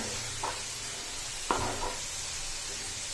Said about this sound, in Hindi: प्याज हमारे ब्राउन होना शुरू हो गए, इनको थोड़ा सा और ब्राउन करेंगे अच्छे से